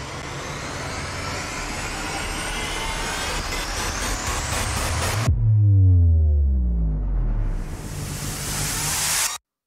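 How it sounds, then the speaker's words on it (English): Epic trailer music intro made in Cakewalk by BandLab with free FX samples and percussion: a dense, loud rising build cuts off abruptly into a deep booming bang with falling tonal tails, then a hissing riser swells near the end, with no voices. "The intro section ends with a bang from this library. We have these FX samples working along with the other sounds, especially the percussion"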